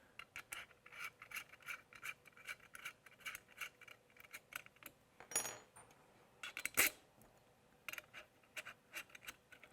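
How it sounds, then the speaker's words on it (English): Bolt head scraping against a metal hub while an arm structure is bolted together, heard as a series of short, close rasping rubs in an uneven rhythm with a couple of louder metallic scrapes. "the head of my bolt is rubbing against this hub in the middle"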